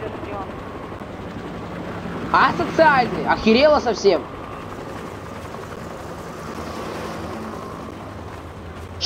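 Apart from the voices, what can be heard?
helicopter in the video game Half-Life 2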